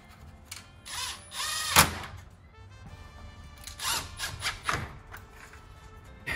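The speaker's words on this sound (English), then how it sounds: "Now let's go ahead and just install the screws to hold the letters." Power drill driving screws to fix lettering onto a RAM 1500 Rebel grille, several short whirring bursts of varying length with ratcheting clicks and tool handling in between, close and fairly loud.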